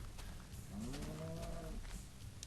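A single video game cow moo, a low drawn-out call rising then falling, heard over steady background noise with faint clicks.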